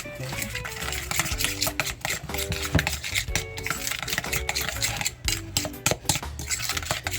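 Potato salad ingredients being mixed in a bowl, with repeated scraping, clinking utensil strokes against the dish in an irregular rhythm, close and fairly loud, no talking.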